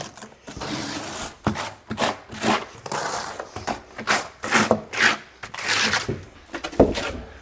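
Steel trowel scraping and spreading thinset across a tile shower substrate during waterproofing, a run of repeated rasping strokes of varying length, close and fairly loud, with no talking.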